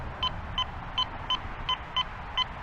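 A Quest X5 metal detector sounds a high tone over a coin, a run of seven short, evenly spaced electronic beeps about every third of a second, clear above a quiet background hiss.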